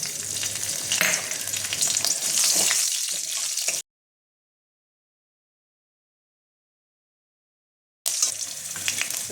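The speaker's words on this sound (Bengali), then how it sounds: "এবার এই তেলেই আমি ফোড়নটা এবার দিয়ে দেবো। 2টো চেরা কাঁচা লঙ্কা আর কালো জিরেটা।" Slit green chillies and black cumin seeds hit hot oil for a tempering, producing a loud, dense frying sizzle that cuts out abruptly midway and then resumes.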